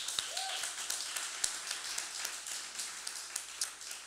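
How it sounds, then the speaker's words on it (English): A live audience at a St. Petersburg speaking event breaks into scattered applause, a steady patter of many hands with a few sharper individual claps standing out above it, kept up throughout without any talking. "So let's give that a round of applause"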